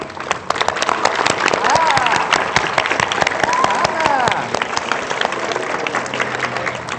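Studio audience on a Pakistani morning TV show clapping steadily and loudly throughout, with a dense wash of hand claps and a voice speaking over it partway through.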